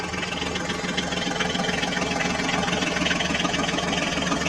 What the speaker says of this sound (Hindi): ये देखो बच्चों, फोर्ड ट्रैक्टर ने तो कीचड़ को पार कर लिया